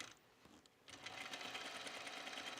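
A sewing machine stitches a quarter-inch seam on a knit top, starting with a few short pulses and then running in a steady, close, fairly quiet whir.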